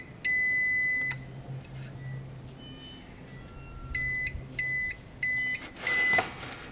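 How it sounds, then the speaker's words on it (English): An APC 650 VA UPS starting its inverter gives a long electronic beep, then four shorter evenly spaced beeps, close and clear over a low hum. "after you hear a beep, the inverter turns on"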